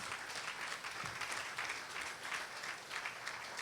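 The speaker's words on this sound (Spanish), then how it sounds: "Si puede aplaudir, aplauda." A church congregation claps together during a service, a fairly quiet but continuous patter of many hands with gentle rhythmic swells, heard alone without speech.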